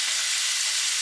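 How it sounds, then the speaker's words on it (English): Onion sautéing with garlic in a hot pan, a steady close sizzle and hiss of frying that holds even and loud throughout, with no talking. "And we're gonna saute this onion"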